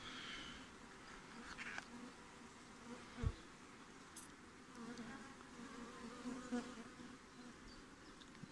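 A swarm of honeybees buzzes around hive frames, a faint continuous hum with individual bees droning past, and a brief soft knock partway through.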